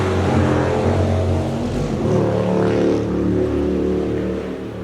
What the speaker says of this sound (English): now that the loud motorcycle went past